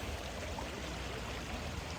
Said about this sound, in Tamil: மீன் கல்லுகளுக்கு இடையால் தண்ணி ஓடுது.